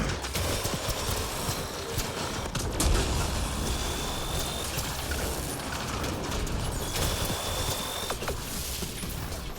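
An engineer's combat turret firing in Mass Effect Andromeda, a steady rapid mechanical clatter of shots that runs continuously through a busy battle.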